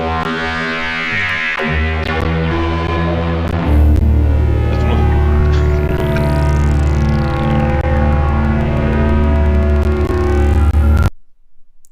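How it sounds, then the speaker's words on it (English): Crackling drone from the Stylophone crackle synth, a loud sustained throbbing hum with rising and falling sweeps, cutting off abruptly near the end. "it's the new crackle synth from Stylophone"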